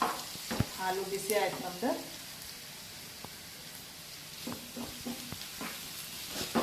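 Food sizzles quietly in a pan in a home kitchen, with scattered stirring clicks. A person speaks briefly near the start over the soft frying.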